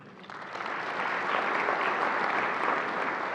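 Applause at an awards ceremony for a vice chairman, starting lighter and quickly swelling into full, sustained clapping from the room, with no voices heard.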